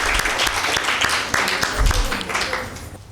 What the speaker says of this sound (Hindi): आइज़िक के लिए ज़ोरदार ताली